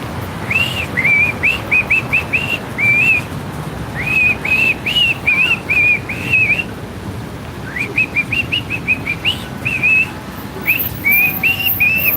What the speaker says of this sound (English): I'm trying to whistle the song now too.